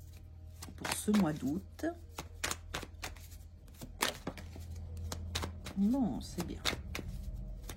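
A deck of tarot-style cards is handled and shuffled, giving soft riffling flicks and sharp slaps close by, heard under someone speaking French throughout.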